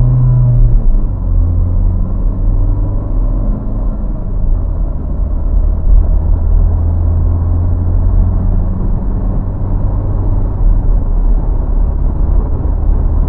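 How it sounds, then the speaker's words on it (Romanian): A Dacia Logan MCV 1.5 dCi diesel with an Easy-R automated gearbox accelerates in automatic mode, giving a steady, loud low engine rumble from inside the cabin, with a slight shift in tone near the start and no talk. "Suntem la viteza 0, modul automat, și accelerăm un pic mai, să ne mișcăm un pic mai repede"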